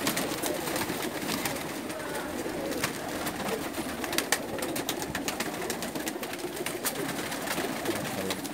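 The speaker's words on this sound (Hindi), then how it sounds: "ये देखें जी, डब वाले कबूतरों में से माशाल्लाह।" Breeder pigeons, including dab-marked birds and a red-spotted hen, cooing steadily in a loft amid constant flutter and ambient noise, with no talk over them.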